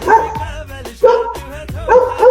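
A dog barks in repeated loud, sharp bursts at close range, several barks spaced irregularly across the moment with no talking over them.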